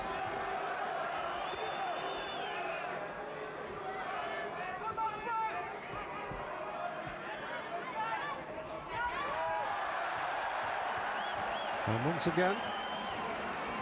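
A boxing arena crowd roars and chants at a WBO super-middleweight fight between Chris Eubank and Graciano Rocchigiani, a dense, rising swell of cheering and rhythmic chanting heard steadily under a commentator's voice.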